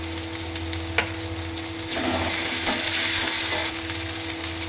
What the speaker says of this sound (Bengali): এবার দেবো আদা বাটা